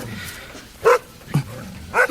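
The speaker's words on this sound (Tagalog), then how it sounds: "may kinahula ng aso ng kapitbahay" A neighbour's dog barks at night, three short separate barks heard at moderate distance over quiet background.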